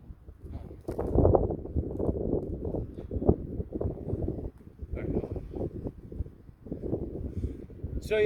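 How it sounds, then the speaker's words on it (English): Low, rumbling wind buffeting the microphone in uneven gusts, with faint movement noises mixed in and no clear talk. "It's a little windy, so we want to pause."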